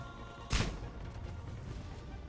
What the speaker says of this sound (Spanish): Sonó como un francotirador.